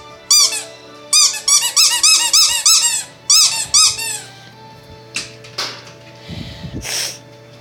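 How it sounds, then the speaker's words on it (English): A squeaky mouse toy thrown for a cat gives a rapid series of sharp, loud squeaks in quick bursts. Softer rustles and thumps follow as it lands and settles. "Let's throw the squeaky toy."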